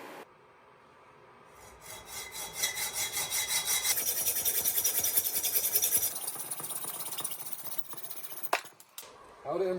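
A bolt being hacked off by hand during an intake install on a 1984 Foxbody Mustang 5.0, a steady rasping saw stroke that builds over several seconds and runs in quick repeated strokes, close and fairly loud, then stops abruptly near the end.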